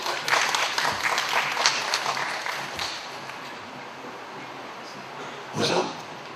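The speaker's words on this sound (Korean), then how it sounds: "박수 한번 치시죠" An audience at a Korean-language talk on architecture claps together, a dense, steady patter of many hands that thins slightly partway through, with a brief louder swell near the end.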